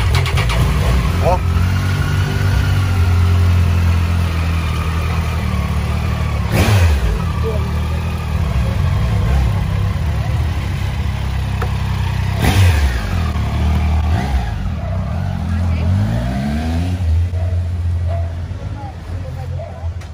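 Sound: black Triumph Tiger motorcycle engine starting and revving

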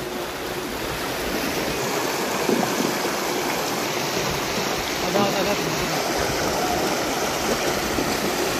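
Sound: mountain stream water flowing

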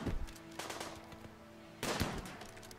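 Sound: gunfire in Rimworld video game

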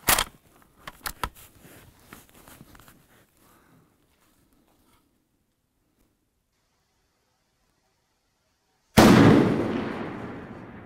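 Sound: precision hunting rifle shot

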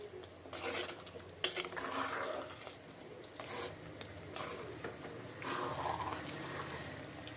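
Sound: stirring fried soya balls into chilli sauce

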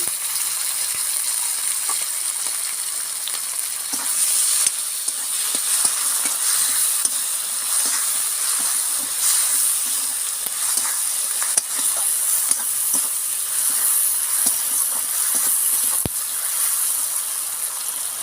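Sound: tomato frying with onion in pan, sizzling

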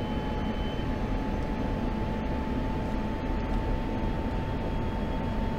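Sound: F-16C Viper jet taking off in video game DCS

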